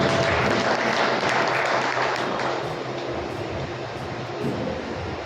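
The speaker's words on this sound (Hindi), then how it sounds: "तालियों से स्वागत करें" Dense, loud applause from a seated crowd fills a Khatik Sahara Foundation program hall to welcome a speaker, strong at first and then slowly easing.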